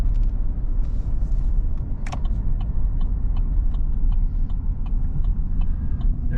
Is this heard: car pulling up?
yes